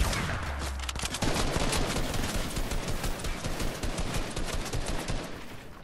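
Fortnite gunfire in a heavy, continuous fusillade, overlapping shots crackling densely for several seconds, loud and close, with no voices.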